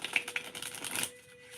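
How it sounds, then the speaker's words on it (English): Tarot cards being shuffled by hand: a quick, soft run of riffling flutters and light slaps, close and fairly quiet, that stops abruptly into near silence. "Oh, that was a good shuffle."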